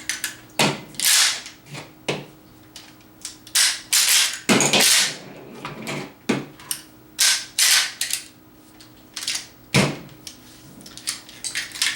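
Tanaka M1897 gas airsoft shotgun being pumped, with shells ejecting: a series of sharp, close mechanical clacks and slides in irregular bursts, separated by short quiet gaps.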